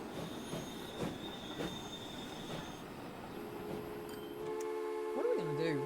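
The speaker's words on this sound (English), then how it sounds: "Now we're just waiting for the trains to get there." Trains rumble and squeal along the tracks in the railway simulation game Transport Fever 2, a steady mechanical wash with sharp wheel screeches, until a voice comes in near the end.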